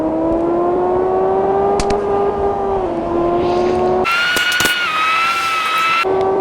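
West Yorkshire police car driving in a game, a smooth steady engine tone that holds pitch, dips slightly, then jumps higher as it revs, with sharp clicks and a brief squeal-like burst.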